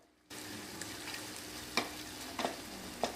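Tomatoes and mint leaves fry in a pan for parotta kurma, giving a steady soft sizzle with a few sharp spoon scrapes and taps as they are stirred, close but fairly quiet.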